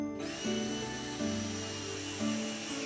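A power screwdriver drives screws to fit a cable holder while a Steelcase Migration SE height-adjustable desk is assembled, giving a steady whirring motor with three short pitch rises as it bears down.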